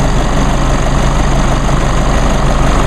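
A 2016 Chevrolet Colorado LT 4x4 diesel engine idles close by, producing a steady, loud, even rumble with a faint knocking texture throughout and no talking.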